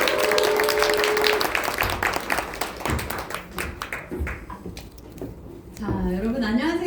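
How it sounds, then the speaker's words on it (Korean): A crowd at a Korean company stage event claps and cheers loudly as a team leader is welcomed onstage. The dense applause fades over several seconds, then a voice comes up at the end. "큰 박수와 함성으로 모시도록 하겠습니다."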